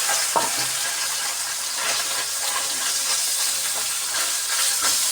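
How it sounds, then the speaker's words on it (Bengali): Bele fish frying in hot oil in a wok, a steady close sizzle and hiss that holds for the whole stretch, with a few light stirring clinks. "মাছগুলোকে পিঠে করে ভালোভাবে ভেজে নিতে হবে"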